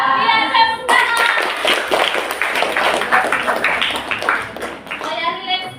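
A grade 8 maths class of schoolchildren claps their hands together in quick, loud bursts, with an adult voice speaking before and after and children's voices mixed in with the clapping.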